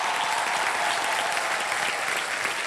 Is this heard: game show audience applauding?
yes